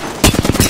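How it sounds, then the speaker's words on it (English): Rapid gunfire in the battle royale shooter Apex Legends, a quick burst of about five or six close, punchy shots in a steady rhythm after a brief lull of game ambience. "Listen up, I'm getting shot at."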